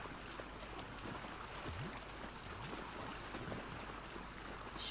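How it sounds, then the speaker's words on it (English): A waterfall in The Last of Us Part II, a faint, steady rushing wash of water heard at a distance with soft low movement sounds over it and no voices. "Waterfall. Look, Dina. Waterfall."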